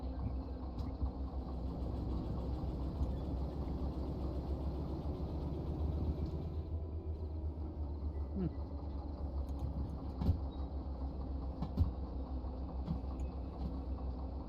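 Train rolling along rails in the Derail Valley simulator: a steady low rumble with a continuous mechanical hum, moderately close, plus a few sharp clanks and knocks near the end, with no talk over it.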